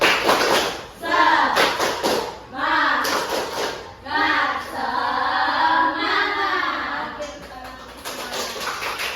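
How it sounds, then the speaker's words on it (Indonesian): Classroom spirit-clap routine in an Indonesian teaching session, with children's voices chanting in rhythmic bursts, claps and thumps in short patterned groups, loud and close and blended with the chant. "1, 2, 3. Tepuk semangat."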